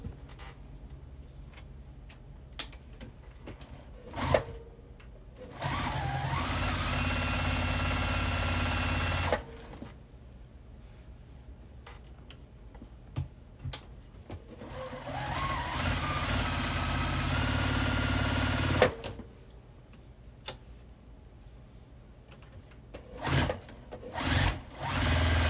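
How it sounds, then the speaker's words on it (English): A sewing machine top stitches the pockets of a fabric tea bag wallet in two sustained runs of about four seconds each, separated by clicks and handling noises and followed by a few more taps. "I am going to top stitch along the top of each of these."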